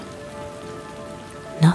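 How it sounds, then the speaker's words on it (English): Gentle, steady rain falls in a soft, even patter that continues throughout, ending with a single brief louder drop or thud. "a gentle rain is falling"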